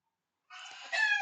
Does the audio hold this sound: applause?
no